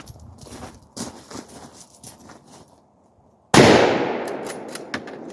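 A rifle shot, from either a Mosin Nagant or an AR-10, strikes a mild steel target outdoors, giving one loud, sharp crack that rings and decays over a couple of seconds after quieter handling noises and scuffs.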